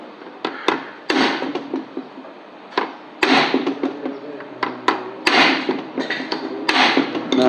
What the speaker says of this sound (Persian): پرچ میکنیم.